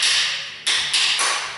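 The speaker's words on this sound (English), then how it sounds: "knock the pads out of that." Metallic strikes sound as brake pads are knocked out of a caliper bracket from a Suzuki XL7, three sharp ringing hits spaced about a quarter second apart, each decaying slowly, heard up close without talk.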